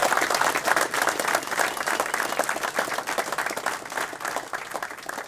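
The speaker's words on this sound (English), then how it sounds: "Give yourselves a clap." A group of motorcycle riders at Glen Helen Resort applauding after a charity ride, a dense steady burst of clapping close by without speech.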